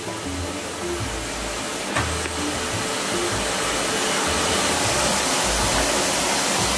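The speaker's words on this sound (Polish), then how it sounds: "A wiesz, że odkurzasz w ten sposób rozwalisz?" Vacuum cleaner running indoors, a steady loud broadband whoosh that continues throughout with only slight variation.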